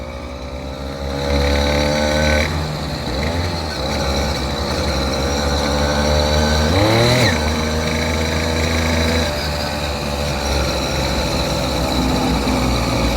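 Small two-stroke engine on a motorized bicycle runs steadily near at close range, a heated motor after hard revving to redline, with a brief rev rise in the middle and possible faint talk.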